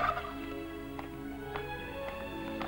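A fat turkey gobbles several times in short rattling bursts at roughly half-second intervals, fairly close over a constant background hum.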